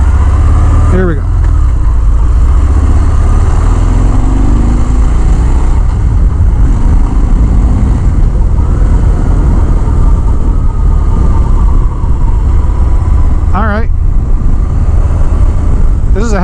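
A heavy Harley-Davidson Fat Bob motorcycle on the road, a loud continuous engine drone with wind rush throughout, recorded from the rider's position, a couple of brief rising tones near the start and end.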